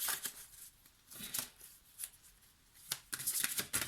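Tarot cards are shuffled and drawn in close, quiet bursts of riffling and flicking separated by short pauses, with a denser run of shuffling at the end.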